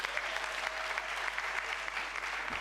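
An audience at a national council consecration ceremony applauds, a steady wash of distant, fairly faint clapping that holds evenly throughout.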